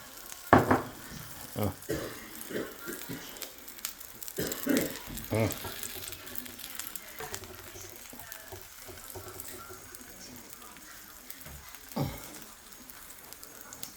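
Msemen flatbread sizzles steadily in an oiled pan for the R'fissa, with a few sharper crackles and bursts early on as it is flipped and oil is sprinkled over, then a softer continuous fry.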